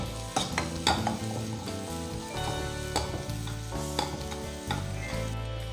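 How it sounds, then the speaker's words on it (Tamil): Crushed onion and garlic go into hot ghee and sauté for a murungai keerai soup. The sizzle is steady and close, with sharp stirring clatters and scrapes recurring about once a second over a continuous low hum, and nobody talks. "நெய் சூடானதும் அதில் நம்ம நசுக்கி வச்ச வெங்காயத்தையும் பூண்டையும் சேர்த்துடலாம்."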